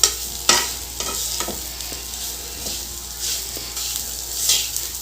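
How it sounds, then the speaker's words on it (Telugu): Ivy gourd pieces being stirred in a hot pan with salt and chili powder, a soft scraping stir over a low steady sizzle, with a few sharper spoon knocks against the pan. "కారం అంతా ఉప్పు కారం ముక్కలకు పట్టేలాగా ఇలా కలిపేసి"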